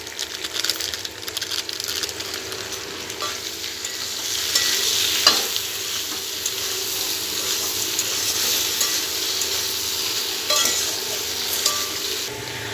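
Potatoes and parwal fry with salt and turmeric in a pan, giving a steady hiss. A spatula scrapes and stirs throughout, with a few sharper scrapes, and no one speaks.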